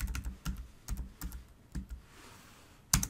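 Typing on a computer keyboard into a search box: a few quick clusters of soft key clicks, close and fairly quiet, pausing briefly before one final sharper keystroke.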